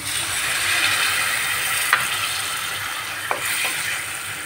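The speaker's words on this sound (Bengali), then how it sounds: "এবার এর মধ্যে আমি বাটি ধোয়া জলটা দিয়ে দিচ্ছি।" Steady loud hiss and sizzle from a fish curry pan as bowl-rinsing water is poured in over the hot contents, with a couple of brief clinks from a utensil against the pan.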